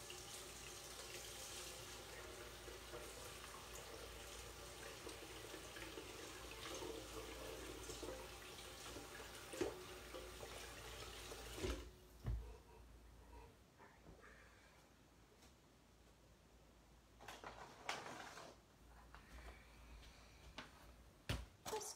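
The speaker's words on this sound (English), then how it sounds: "I'm gonna wash my hands quickly." Tap water runs steadily into a kitchen sink during hand washing while baking muffins. The stream is continuous and close for about twelve seconds, then it is shut off, leaving quieter rattles and small knocks with no talking.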